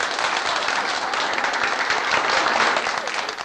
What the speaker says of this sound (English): Round of applause for Sue.